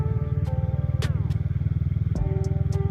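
A Suzuki Satria motorcycle fitted with an aftermarket exhaust idles and revs close by, its deep, steady pulsing drone rising briefly in pitch, with a few light clicks and clatters over the engine.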